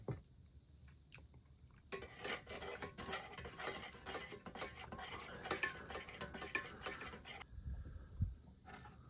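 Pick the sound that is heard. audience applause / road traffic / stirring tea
stirring tea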